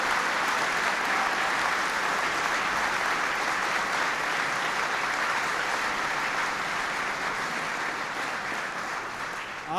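Loud, steady applause from a large crowd at a heads of state reception in 1995, dense and continuous for several seconds before easing slightly at the end.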